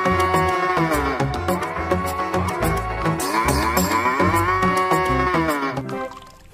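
Cow mooing in a Jurassic World Evolution 2 game, long drawn-out lowing tones of varying pitch that run continuously and fairly loud, blended with layered game sounds and no talking.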